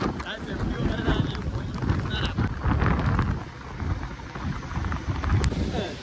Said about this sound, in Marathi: इथे पाऊस बघा फुल जोरात